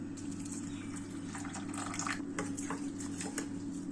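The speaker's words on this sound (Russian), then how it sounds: "Сейчас добавляем сюда воды." Water runs steadily from a tap or is poured into a bowl of rice being prepared for the microwave, a continuous splashing fill that stays close and fairly loud throughout.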